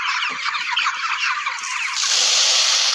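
A flock of chickens crowds together as feed is poured from an opened sack, a loud, dense rustle and scratching noise that swells and grows brighter toward the end, without speech.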